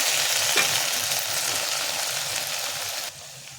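Eggplant frying in hot oil gives a steady, close sizzle with a faint stir near the start, and the hiss drops slightly near the end.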